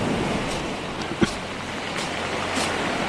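Big ocean waves surging at Balagbag beach in Real, Quezon, a steady broadband wash of surf with a rocky shore, one brief sharper splash midway, and light wind noise, no talking.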